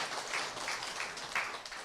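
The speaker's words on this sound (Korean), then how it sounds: "잘 오셨다고 일단 박수 한번 해보세요" Brief, fairly quiet applause from an audience of business owners at a Sunday auto sales lecture, a dense patter of clapping filling the room without talk.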